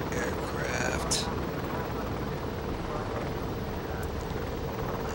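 The WAC aircraft engine in Garry's Mod gives a steady, loud rotor-like drone that holds throughout, with a few brief whistling tones above it.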